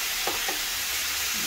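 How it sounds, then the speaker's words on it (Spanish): Thin strips of milanesa beef hit hot oil in a pan, giving a dense, loud, even hiss of frying, with a couple of faint stirring touches near the start. "vamos a agregar aquí la carne. Está caliente el aceite."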